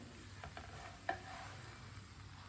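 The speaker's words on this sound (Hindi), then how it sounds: "अब इसे उल्टाते पलटाते पका लेंगे। जलने नहीं देना।" Paratha cooking on a hot griddle gives a faint, soft sizzle, with a few light scrapes and one sharp tap as it is flipped and turned.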